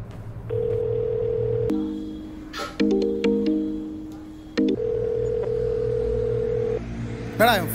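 A phone call is placed to a delivery boy: steady dial and ringback tones sound in several held segments, broken by short keypad beeps and clicks, with a brief burst of other noise at the end.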